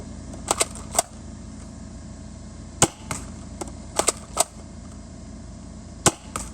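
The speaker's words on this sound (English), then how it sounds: "the Adventure Force AEON Pro, also firing the same bamboo short darts" Adventure Force AEON Pro foam blaster firing bamboo short darts: sharp, close snapping shots in small bursts, a pair or triple at a time with pauses between, over a low steady background hum.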